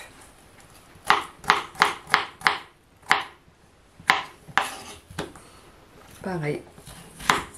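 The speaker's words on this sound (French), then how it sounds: "Vous voyez, là je coupe en deux et en deux." Potatoes are cut with a knife on a board: a quick run of crisp chops, then several more spaced cuts, close up, with someone speaking briefly near the end.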